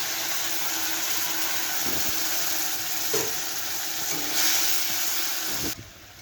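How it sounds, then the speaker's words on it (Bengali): Paste of ginger, chili, onion, garlic and tomato sizzles steadily in hot oil with browned fried onions, a continuous close frying hiss with occasional stirring clinks, alone. "এখন আমি এখানে আদা, লঙ্কা, পেঁয়াজ, রসুন, টমেটো কুচিটা পেস্ট করে রেখেছিলাম দিয়ে দিলাম মশলাটা"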